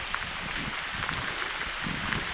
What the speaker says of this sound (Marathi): कंटिन्यू पाऊस चालू आहे।